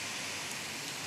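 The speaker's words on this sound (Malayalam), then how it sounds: "ഇവിടെ ഭയങ്കര മഴയാണ്." Heavy rain in the mobile game Indian Bikes Driving 3D, a dense, even hiss of downpour with no voices, steady and fairly loud throughout.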